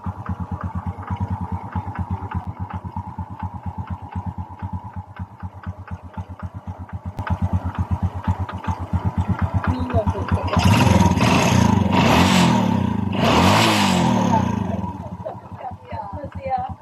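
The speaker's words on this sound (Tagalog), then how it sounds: "Ito yung magtunog ng kanyang makina guys." A Honda XRM 125 motorcycle engine, freshly fitted with new side bearings and connecting rod, runs steadily at a close, even idle with a light ticking, then revs up loudly in a few bursts before settling back.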